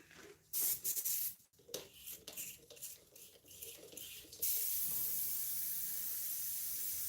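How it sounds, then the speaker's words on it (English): An airbrush being cleaned out, sprayed until it runs clear, giving a close, steady airy hiss that starts about halfway through and continues to the end, after earlier bursts of spraying and handling noise, with no talk. "So I'm going to clean the airbrush out a little bit."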